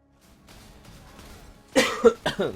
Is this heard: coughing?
yes